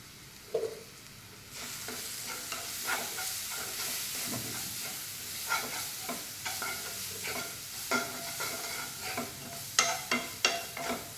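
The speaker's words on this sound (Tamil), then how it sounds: "நல்லா வதங்கணும் மசாலா" Sizzling and scraping as masala is stirred in a hot pan, with repeated spoon strokes over a steady fry hiss.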